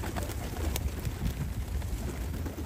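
Pigeons, some with taped wings, coo in a loft, a soft low murmur that runs continuously and sits close under steady background noise.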